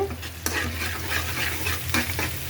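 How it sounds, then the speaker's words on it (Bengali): Onions frying in a pan with cumin just added, a steady bright sizzle broken by a few sharp scrapes of a stirring utensil against the pan, close and clear with no talking. "কিছু জিরা দিয়ে দিলাম পেঁয়াজের সাথে"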